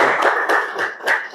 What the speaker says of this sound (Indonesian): Tepuk tangan dong untuk mahasiswa.